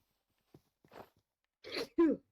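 A single sneeze, preceded by a few soft breaths and sniffs, ends in a short sharp burst, close and fairly quiet.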